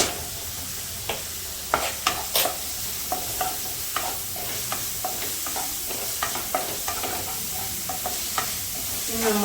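Curry ingredients sauté in a pan with a steady sizzle, broken by repeated scraping and stirring clicks of a spoon against the pan throughout, close and moderately loud.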